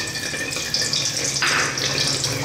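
Mustard and fenugreek seeds sizzle in hot oil in a pan for a Sri Lankan plantain curry, a close, steady crackling hiss that briefly flares brighter midway.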